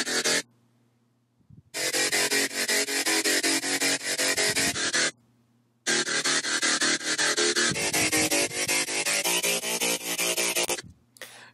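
A dirty, gritty synth bass Serum patch built from a drum sample plays in two long, loud, dense bursts separated by a short silent gap, with no voices.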